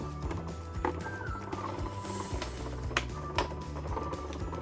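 Big Shot style manual die-cutting machine cranking a cutting plate sandwich through its rollers, giving a quiet mechanical whir with rhythmic clicks and ratchety knocks, a few sharper taps standing out.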